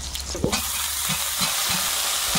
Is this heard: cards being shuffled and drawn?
no